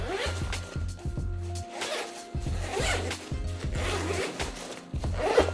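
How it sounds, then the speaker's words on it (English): The expansion zipper on an Osprey Daylite 26+6 backpack is pulled open in several close, loud rasping strokes with short pauses between them, and no voices. "the zipper's located on the outside. So you pull down from the top."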